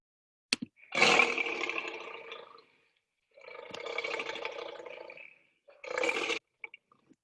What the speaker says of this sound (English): How far can a lion's roar carry?